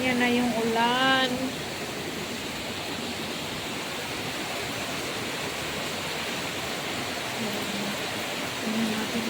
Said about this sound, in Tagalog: Ang lakas ng ulan dito.